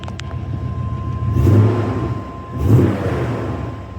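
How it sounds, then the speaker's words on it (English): A low, steady exhaust rumble from an OBS pickup truck with headers, 2.5-inch pipes and Magnaflow mufflers, with two swells in loudness like brief revving, settling back to idle. "I've always wondered what Magnapacks sound like on them, and they sound pretty decent"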